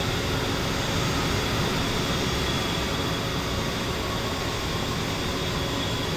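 A-10 jet engine spooling down after shutdown in a flight simulator game, a dense steady roar with a high whine held throughout, loud and close with no voices.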